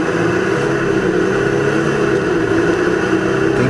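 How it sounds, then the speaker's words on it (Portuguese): A 2021 Volkswagen Amarok V6 pickup pulls away from a standstill, its engine droning loud and steady with a constant low rumble and road roar throughout. "Vamos dar uma paradinha aqui e testar como é que ela ficou saindo parado."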